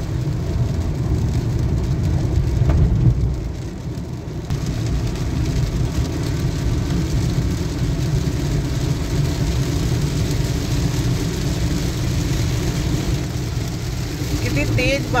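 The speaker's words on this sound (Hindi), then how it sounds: "तेज बारिश हो रही है, आप साउंड सुन सकते हैं बारिश की," Steady heavy rain pours down continuously, a dense roaring wash with a low rumble underneath, loud and close throughout.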